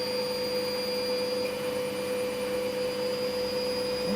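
Candy washing machine motor whirring steadily after a triac replacement on its motor controller, a continuous mechanical whine with a constant tone throughout, fairly quiet and with no voice.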